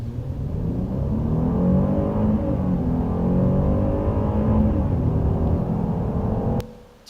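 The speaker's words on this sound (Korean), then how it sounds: "이 소리에다가 호랑이 소리를 덮여 씌운 소리를 한번 들어보시겠습니다." Car engine sound overlaid with tiger roar formants, a loud continuous low growling drone with sweeping harmonics that rise and fall like revving, heard alone before stopping abruptly.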